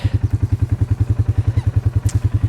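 A motorbike out on an open swamp, its engine thumping in a strong, regular low pulse of roughly eight beats a second, loud and close, with a brief higher squeak near the end and no talk.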